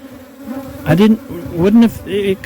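Honey bees from a cutout colony, being inspected for queen cells, buzz loudly and close by, their tones rising and falling in several swells as individual bees pass near.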